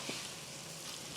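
Roasted vermicelli being stirred into a hot pan while making upma, a steady close sizzle and frying hiss running alone for about a second with no talk.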